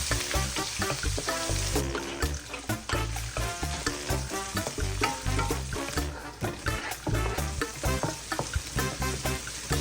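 Ginger, garlic and onion sautéing in a hot pan, a steady loud sizzle with scraping stirs and clinks of a utensil throughout, close up, with no talking.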